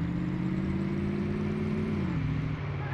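In Car Mechanic Simulator 2018, a car's engine revs on the test track, a brief steady mid-pitched drone that climbs slightly and then drops as the revs fall.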